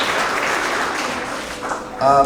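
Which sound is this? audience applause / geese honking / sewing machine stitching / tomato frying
audience applause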